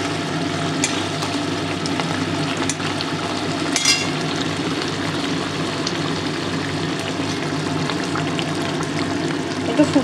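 Pabda fish cooks in a mustard gravy with a steady low bubbling and simmering hiss, broken by a few faint clinks, continuous and close with no talk.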